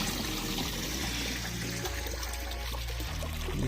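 Water pours steadily from three fountains into pools at Providence Spring, a continuous loud splashing rush heard close and alone with no talk.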